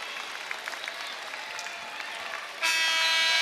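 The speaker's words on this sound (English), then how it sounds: "The Spartans fans on their feet cheering on the green and white" Michigan State Spartans fans cheering and applauding at a women's basketball win over Northwestern, a steady crowd roar that swells sharply louder near the end, dense and sustained.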